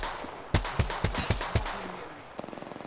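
Gunshots in Apex Legends: about five sharp, loud shots spaced roughly a quarter second apart, then a pause, then a quicker rattling burst of smaller rapid shots near the end.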